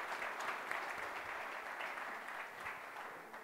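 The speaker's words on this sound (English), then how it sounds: "So please give your round of applause for Dean and Mario." Steady audience applause for conference speakers, a dense wash of clapping that holds evenly at moderate loudness for the whole stretch with no speech over it.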